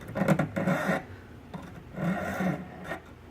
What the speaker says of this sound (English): now I'm going to go in with the flat side of my file.